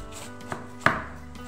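A knife chops salad on a cutting board, two sharp, close cuts landing in quick succession with no voices, while sliced plantains fry for a chicken dish.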